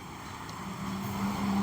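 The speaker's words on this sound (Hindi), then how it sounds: "देख सकते हैं गाड़ी हम पूरा रेस कर रहे हैं" A Volkswagen Polo car engine with low pickup and a smoky, carbon-clogged silencer revs steadily, a low droning hum rising slightly toward the end, close and continuous.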